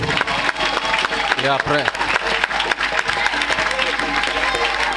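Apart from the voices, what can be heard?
applause and acclamation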